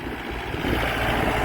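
A PAC 21 model Mahindra 475 tractor with a badly worn engine runs in a loud, steady, close rumble that holds constant for a brief stretch.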